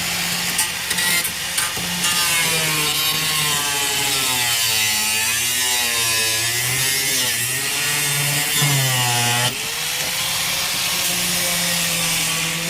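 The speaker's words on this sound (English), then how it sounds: "Is he cutting more plastic?" A hand saw cuts through plastic on an S10 Blazer 4x4 during a V8 swap, a close, loud, continuous rasp with wavering pitch as the strokes change speed, ending in a sharper scrape.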